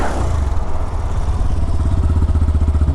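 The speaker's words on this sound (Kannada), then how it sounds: "ಗಾಡಿ ಸೌಂಡ್ ಒಂದು ಕೇಳ್ರಿ" A Hero Glamour 125cc motorcycle idles just after ignition, its engine heard up close as a steady low rhythmic thrum that grows more distinctly pulsing toward the end.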